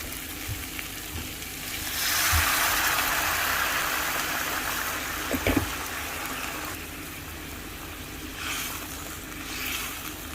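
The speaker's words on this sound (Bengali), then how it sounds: "গরম পানি অ্যাড করে দিচ্ছি" Hot water pours into a pan of kofta curry gravy, a loud rushing hiss swelling over the cooking masala then fading into a softer simmering sizzle with a brief clink of a utensil, close by and without talk.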